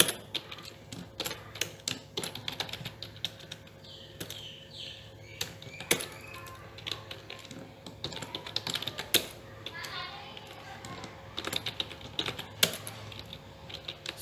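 Names being entered on a computer keyboard in an Excel spreadsheet: irregular bursts of quick, light key clicks with short pauses, close and fairly quiet, with faint children's voices in the background.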